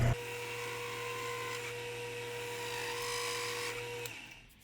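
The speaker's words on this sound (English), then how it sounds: "little skim cut on the OD to clean up that weld for weld prep" A lathe takes a hand-fed skim cut on the outside diameter of a welded part, cleaning up the weld: a steady machine drone and cutting whine hold evenly for about four seconds, then stop.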